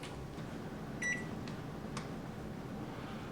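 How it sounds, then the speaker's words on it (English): A kitchen oven beeps as it is started, a short electronic tone followed by a fainter chirp, heard close in a quiet room with a steady background hum and no talking. "Okay, got my oven started."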